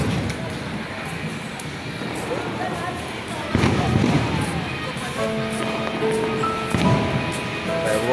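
Fireworks crackle and thump over a noisy crowd at the Sinulog festival in Cebu, a few sharper bursts standing out amid steady crowd roar, with people talking close by.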